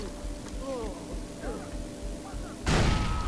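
In the Far Cry 3 video game, scattered gunfire thuds give way to a sudden loud explosion near the end, followed by a rushing roar.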